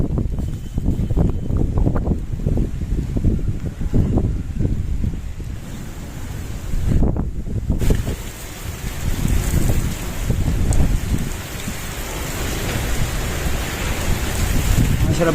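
Heavy rain pours steadily in a village storm while strong gusts of wind roar and buffet the microphone, a loud, continuous wash of noise with surging bursts throughout.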